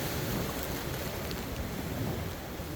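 Sea spray splashing onto a camera on a wave-tossed fishing outing in rough water, a dense, loud hiss of water with low rumbling, continuous throughout, without voices.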